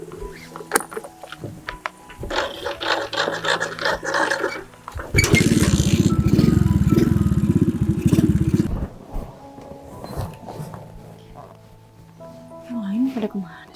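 An old motorcycle engine runs with a coarse, steady rumble that rises loud for several seconds and then drops away, with people talking before and after it.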